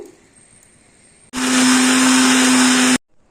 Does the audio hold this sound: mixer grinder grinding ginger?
yes